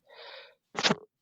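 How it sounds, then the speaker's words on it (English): One person sneezes once, close and fairly loud: a breathy intake followed after a short pause by a sharp, explosive burst, with no talk around it. "oh my god, I need to sneeze."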